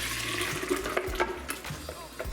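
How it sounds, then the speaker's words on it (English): Lemon apple cider vinegar collagen drink poured into a blender in a home kitchen, a steady close splashing liquid stream with small glugs and drips throughout. "I'm just gonna pour this all in."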